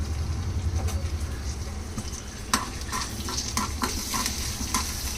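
Two dried red chilies sauté in oil for a chutney, a continuous sizzle broken by irregular spoon scrapes and clinks against the pan, close and moderately loud.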